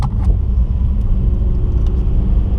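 A Mercedes-AMG E63S launches from a standstill on a slight uphill with two people aboard, heard from inside as a loud, continuous deep engine rumble that stays steady throughout.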